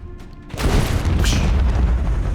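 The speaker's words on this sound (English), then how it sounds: "Torpedoes go." Torpedoes launch from a ship in Warhammer 40k Rogue Trader, a sudden deep whooshing boom that swells in and holds as a loud, sustained rumble.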